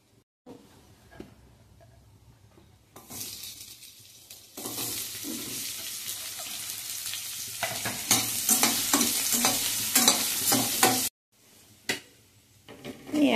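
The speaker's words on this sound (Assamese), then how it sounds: "পিঁয়াজখিনি অকণমান ব্ৰাউন কালাৰ কৰি ভাজি লওঁ। অলপ তেল দিছোঁ" Onions fry in a little oil in a pressure cooker, a quiet start giving way to loud, continuous sizzling with scraping stirs, then a brief pause before the sizzle returns.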